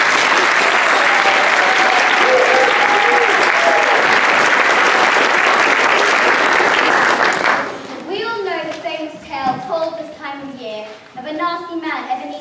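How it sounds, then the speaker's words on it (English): Loud audience applause at a school Christmas show, dense clapping and cheering for about seven and a half seconds, then fading as children's voices and singing take over. "please put your hands together for the most rehearsed cast in the world"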